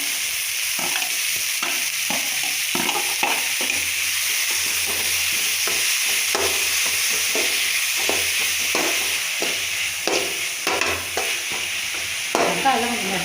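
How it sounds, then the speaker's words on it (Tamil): Onions and tomatoes fry in a pan under a loud, continuous sizzle and hiss, broken by repeated scrapes and clinks of a spoon stirring the mixture, close up and without speech. "வெங்காயம் பொன்னிறமாக வறுத்துக்கணும்."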